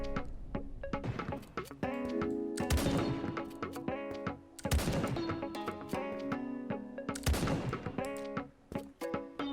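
Repeated shotgun blasts fired while jumping in a first-person video game, sharp loud bangs at a few-second intervals over steady game music and ambient layers.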